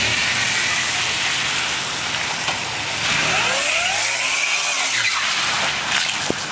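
A Grand Prix GTP car spins a burnout donut on a wet street in the rain, engine roaring and tires hissing through a rising and falling sweep that swells loud midway, then fades.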